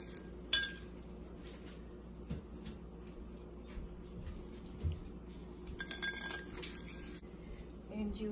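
A utensil clinks lightly against a bowl while vinegar, sugar and water are stirred into a sauce, with a few sharp taps standing out over a quiet, steady kitchen background.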